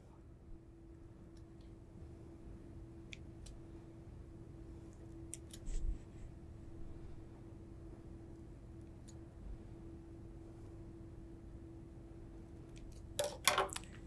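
Scissors cut ribbon at an angle for a simple gift bow, a few quiet snips and a short cluster of sharp clicks near the end against a faint steady room hum.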